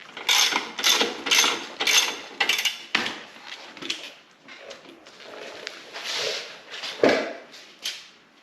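Close-up ratcheting on a YUME X7 scooter as a bolt is loosened, a series of quick rhythmic clicking bursts repeating in strokes with short pauses, fairly faint and with no talking.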